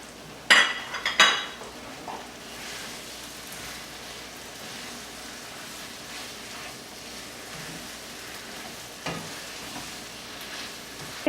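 Red bell pepper pieces hitting a hot pan in a home kitchen, giving two sharp bursts of sizzle near the start, then a steady soft frying hiss with light utensil clinks, alone without talk.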